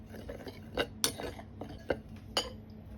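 Metal spoon or whisk clinking against a bowl while stirring flour, baking powder and fine salt together for birthday cookies, a series of sharp irregular taps and scrapes close by.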